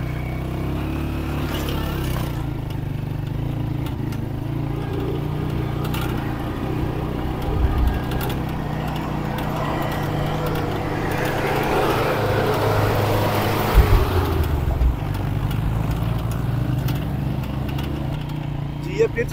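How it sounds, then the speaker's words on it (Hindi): A motorcycle engine labors steadily uphill on the bends of the mountain road to Lake Saiful Muluk, a constant low drone that swells and strains, with wind noise and a voice speaking over it. "बाइक के लिए भी ऊपर चढ़ना मुश्किल हो जाता है"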